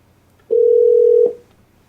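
A steady, loud electronic dial tone from the Alexa Dialer phone-calling feature holds for just under a second, rising suddenly and then ending with a short decay against near silence.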